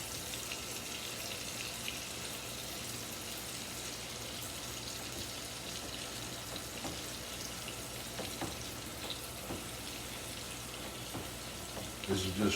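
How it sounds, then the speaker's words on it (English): Tap water streams steadily over cooked 90-10 hamburger meat in a pan, giving a continuous hissing, sizzling wash with faint clinks near the end. "Then I'll run water over it."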